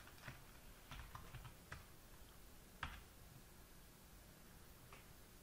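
Sparse, quiet keystrokes on a computer keyboard while entering code in MATLAB, a few scattered clicks with one slightly sharper tap, over a soft background hiss and no speech.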